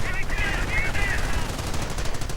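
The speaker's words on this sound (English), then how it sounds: "Troops getting suppressed here by the MG-42." An MG-42 machine gun fires in a video game battle, a continuous rapid rattle of fast shots with a few brief bursts standing out at the start.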